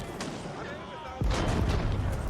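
Gunpowder units and cannons fire in an Age of Empires 4 battle, a couple of sharp booming blasts with the louder one midway, layered over clashing battle noise.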